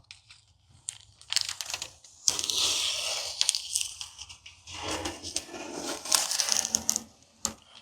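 Masking tape peels in ragged tearing bursts off a freshly painted jon boat whose paint has failed, close and crackly, stopping and starting across several pulls.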